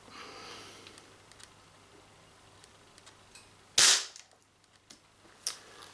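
Artemis LP400 air pistol firing a 7.8 grain pellet, a single sharp loud crack up close standing out from quiet room noise, followed by faint small clicks.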